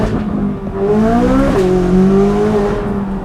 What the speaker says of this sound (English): Downshifting.